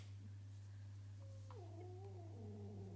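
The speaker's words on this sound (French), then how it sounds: "il y en a deux qui sont en train de se regarder en chat de faïence et elle se grogne dessus" Two house cats growl and yowl at each other indoors, a faint drawn-out wavering moan that rises and falls over a steady low electrical hum, with no talking.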